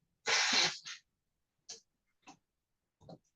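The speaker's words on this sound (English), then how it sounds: "I'm gonna sneeze." A loud, close sneeze bursts out alone in a quiet courtroom, followed by a few short, softer sniffs or breaths trailing off.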